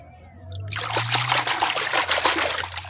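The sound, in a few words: clean water pouring while washing muddy toys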